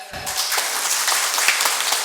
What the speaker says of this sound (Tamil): கைத்தட்டல் பத்தலை,